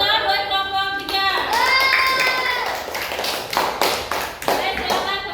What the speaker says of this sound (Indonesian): saya tepuk tangan buat kelompok 3